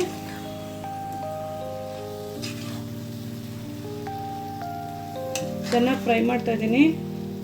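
Moringa leaves frying in a pan, a soft steady sizzle under background music, with a few louder stirring and scraping sounds near the end.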